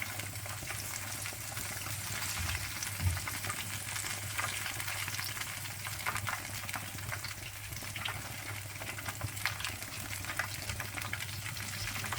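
Fish fries in hot oil until golden brown, giving a steady, close, continuous crackling sizzle with no voices.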